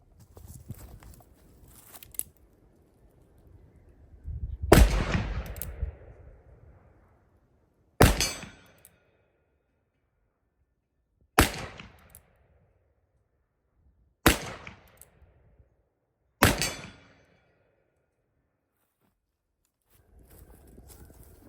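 Black-powder loads fired from Colt Single Action Army revolvers, one genuine and three clones, boom out as five loud, sharp shots spaced a few seconds apart, each with a short ringing tail, with no talking.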